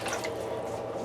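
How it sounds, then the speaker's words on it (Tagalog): Water poured into a large mixing bowl, about one and a half cups, a short continuous splashing gurgle heard up close with no talk. "ilagay na po natin ang ating tubig muna"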